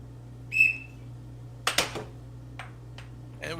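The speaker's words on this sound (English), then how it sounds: "we've got the whistle of the ref" A referee's whistle at an air hockey match gives one short, clear shrill blast near the start, followed by sharp puck and mallet clacks and a few fainter knocks over a steady background hum.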